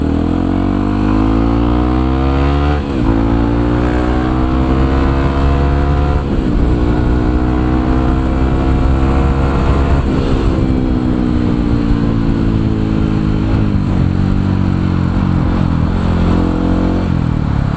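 A modified Yamaha WR155R supermoto on Maxxis Extra Max tires rides wet asphalt after heavy rain, its engine droning loud and close with repeated rising revs between gear changes and constant wind noise.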